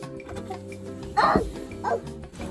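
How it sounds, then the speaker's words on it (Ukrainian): A dog gives two short barks, fairly close, over a steady low background hum. "Влад, не гавкати більше"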